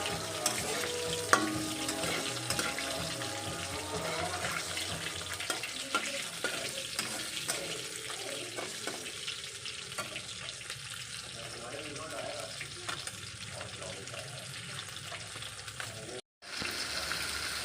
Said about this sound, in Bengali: এই দেখো এখানে আলু বেগুন আর টমেটো দিয়ে কষাচ্ছি